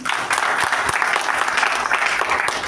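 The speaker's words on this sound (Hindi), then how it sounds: "जोरदार तालियां इनके लिए" Steady, dense applause from an audience at a motivational meeting in Sirsa, loud and sustained with no break, with a few voices faintly mixed in.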